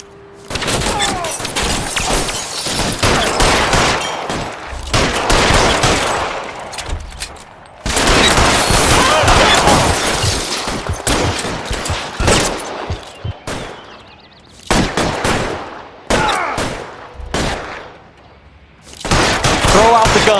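Bursts of gunfire in the video game L.A. Noire, loud rapid volleys of shots in several clusters separated by brief pauses, with voices now and then between them.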